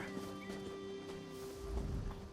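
Horses at a stable in The Elder Scrolls Online, with faint hoof clops and a soft whinny over a steady ambient game backdrop, growing slightly louder near the end.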